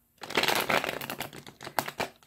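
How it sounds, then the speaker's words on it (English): Gilded Tarot cards being shuffled by hand, a close run of dense riffling and papery flicks with a few sharper snaps near the end, no voices. "let's get our shuffle on"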